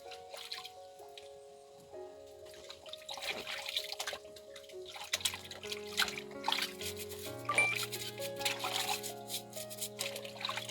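Ginger root is washed and brushed under running water, a soft trickle with occasional drips and splashes continuing throughout, heard fairly faint beneath a steady tonal background, with no talking.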